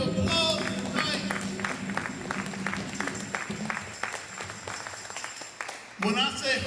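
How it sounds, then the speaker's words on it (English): An audience at a Kwanzaa celebration night gives a round of applause, many hands clapping in a steady patter that fades slightly before a voice resumes at the end. "Can you give yourselves a round of applause tonight?"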